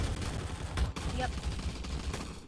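Rapid gunfire in a video game gunfight arena, including a sniper rifle shot, dense and continuous throughout with a brief dip midway, close and loud over a busy game soundtrack.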